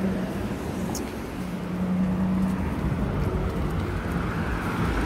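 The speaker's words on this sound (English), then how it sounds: "it's so noisy here, too many cars passing by" Night traffic on a busy Copenhagen street near the Queen's palace: a continuous roar of cars passing close by, swelling and easing slightly, with no speech.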